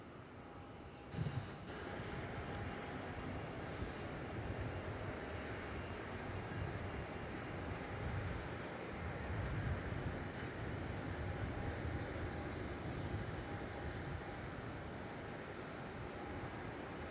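An airliner takes off from runway 34 at Melbourne Airport, a distant, steady low roar of jet engines that holds throughout at a faint level.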